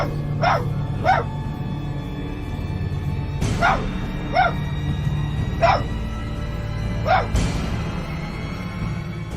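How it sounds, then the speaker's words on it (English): A dog barks in sharp, separate bursts, about six or seven of them spread evenly and at close range, over a low steady hum with no other voices. "It's at that exact moment when it appears that the dog's barking intensifies, and you can even hear the fear in it."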